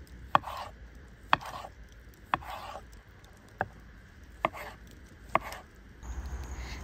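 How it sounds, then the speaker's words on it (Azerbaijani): A knife chops a peeled, medium-sized tomato on a cutting board in six evenly spaced sharp taps, with soft squelchy sounds between strokes in a quiet kitchen. "qabığını soyduğum bir ədəd orta boy ölçüdə pomidoru xırda-xırda"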